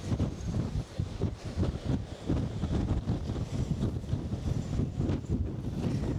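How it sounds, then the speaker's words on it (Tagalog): Strong wind on the Jeju Island coast buffets the microphone in continuous gusty rumbles, with a broad roar of surf or moving air behind it and no voices. "Kasi malakas yung hangin."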